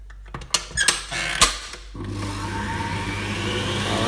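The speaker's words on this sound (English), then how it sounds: "some of the mascarpone is not integrated, so I'm going to whisk it a little bit more" An electric mixer kicks in and whirs continuously as it whisks a mascarpone cream mixture for tiramisu, following a few clanks and bumps from handling the bowl.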